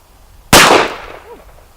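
Single loud, close gunshot from a Smith and Wesson 10-5 revolver fired double action outdoors, a sharp crack followed by a short fading echo and brief ringing tail.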